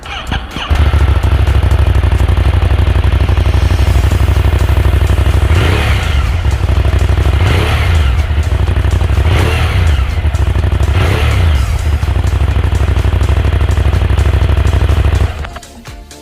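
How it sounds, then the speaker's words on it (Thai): A 2018 Ducati Monster 821 motorcycle engine runs close and loud at a steady idle, then revs up in four distinct blips around the middle before settling back and cutting off at the end. "เดี๋ยวมาลองฟังเสียงกันดูนะครับ"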